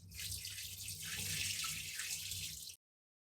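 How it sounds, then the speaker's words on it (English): Water from washed rice pours in a continuous hissing, splashing stream into a sink, close and steady for a few seconds before cutting off abruptly. "Just be careful while you drain the water so you don't spill your rice."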